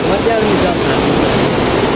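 Andheri waterfall in Udayapur, Nepal, a loud, constant rushing roar of falling water heard up close.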